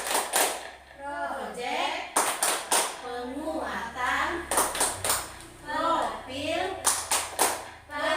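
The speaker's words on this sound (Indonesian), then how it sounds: "Mari kita melaksanakan tepuk pelima." Kindergarten children perform the tepuk pelima clapping routine, with bursts of sharp, rhythmic group claps alternating with their chanted voices.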